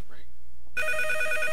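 A telephone bell starts ringing abruptly after a brief voice, a loud, steady trilling ring that continues to the end.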